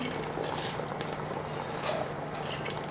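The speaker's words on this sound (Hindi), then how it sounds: "बासमती राइस हम इसमें डाल देते हैं" Soaked basmati rice poured into boiling stock for a pulao, a dense hissing, bubbling wash of liquid and grains that stays close and even throughout, with no talk.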